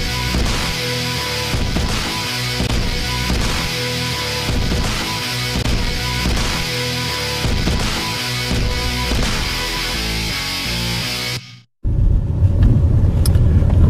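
A car driving on the road for a rideshare shift during a gas shortage in North Texas, with a steady engine and road rumble throughout that drops out sharply near the end before a quieter, lower cabin hum returns.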